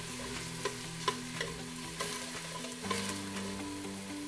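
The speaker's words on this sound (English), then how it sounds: "So we're gonna give that a little stir here." Onions sautéing in a pot for a Greek soup sizzle steadily while a spoon stirs them, with several soft scraping clicks against the pot over a constant frying hiss, close and moderately quiet.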